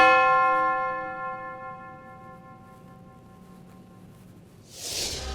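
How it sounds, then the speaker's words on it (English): Bronze church bells on a 1920 Gaudin dance hall organ ring one clear struck tone that rings out and slowly decays, followed by a brief hiss-like burst at the end. "12 massive bronze church bells were added, the largest of which weighs 600 pounds"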